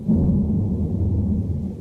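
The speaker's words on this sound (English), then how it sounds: "That's thunder snow in Connecticut." Low, steady rumble of thunder snow during a massive winter storm in Connecticut, a continuous deep roll lasting the whole moment with no voices over it.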